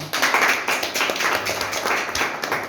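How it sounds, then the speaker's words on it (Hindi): Clapping for Sanjay ji ripples through an open meeting at Rajdhanwar, a close, busy patter of many hands at steady volume for a few seconds. "सबसे पहले संजय जी के लिए ताली होनी चाहिए।"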